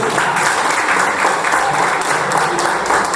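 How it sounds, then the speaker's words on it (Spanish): An audience at a Cuban cultural venue's gathering applauds an eighty-year-old woman, with thick, even clapping filling the whole stretch at full volume and no voices on top. "le pueden dar el aplauso a Fefita"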